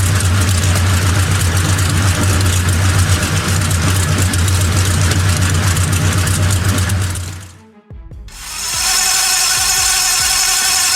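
A 500-horsepower M26 Pershing tank engine runs loud and close with a deep, steady low rumble under throttle, then cuts away briefly before a different, higher-pitched engine note takes over near the end.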